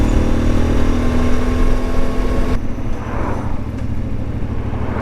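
The CFMoto Ibex 450 motorcycle, fitted with a clutch safety bypass, idles with a loud, steady low engine burble that continues throughout, with a slight change in tone partway through.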